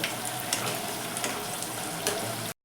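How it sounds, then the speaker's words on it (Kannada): Water boiling in a pot for upma as semolina is added, a close, steady bubbling sizzle with a few soft stirring clinks, ending abruptly. "ಇಲ್ಲಿ ಉಪ್ಪಿಟ್ಟು ನೀರು ಕುದಾಕತ್ತಾರ್ರಿ ಈಗ ರವೆ ಹಾಕ್ತಾರೆ ಮಮ್ಮಿಯರು"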